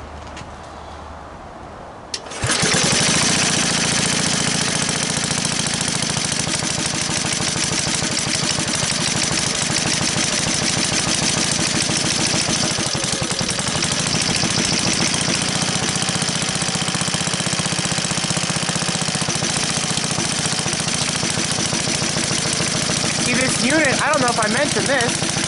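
A 1953 Onan generator engine, on its first start after repair, is quiet for about two seconds, then catches and runs loud and steady close by with a rough, knocking mechanical drone.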